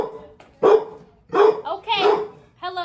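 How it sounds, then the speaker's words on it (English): A dog at home gives several loud, close barks and yips in quick bursts, with short pauses between them. "My dad's dog."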